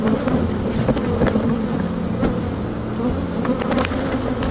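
Honeybees buzzing loudly and continuously around an open hive during a transfer from a Langstroth to a horizontal hive, a dense close drone with wind rumble on the microphone.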